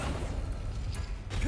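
An Accio summoning spell cast in Hogwarts Legacy, a brief whooshing, creaking magical pull with a rising tonal swish at the end.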